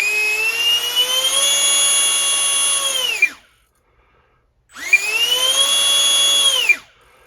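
A micro electric ducted fan impeller motor on a small RC plane spins up to a steady high-pitched whine, runs for about three seconds, winds down, then repeats the same run after a short pause, close and loud with no talk.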